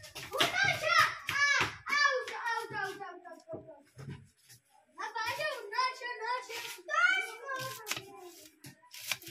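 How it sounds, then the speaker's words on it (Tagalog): Children play noisily outside, their high chattering voices and shouts coming in lively bursts with brief pauses between. "Habang maingay ang mga bata sa labas, naglalaro"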